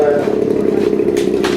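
A model helicopter's gas turbine drones loudly and steadily nearby as it spools up, a sustained engine tone with a fluttering rotor beat; a voice is heard over it.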